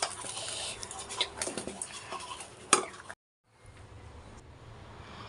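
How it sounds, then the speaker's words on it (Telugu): A spoon stirs tempering into cooked rice for lemon rice, giving a run of soft scraping and clinking against the pot for about three seconds before a short silence and a faint quiet tail. "ఈ విధంగా కలుపుకోవాలి."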